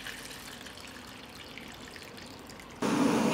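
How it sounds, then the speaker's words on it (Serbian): Hot water pours into a cooking pot holding glass jars on a cloth, starting with a faint trickle and then swelling abruptly into a steady, louder splashing stream near the end. "U šerpu ću sipati vruću vodu"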